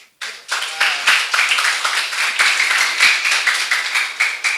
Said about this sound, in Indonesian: Tepuk tangan dengan Mbak Wina.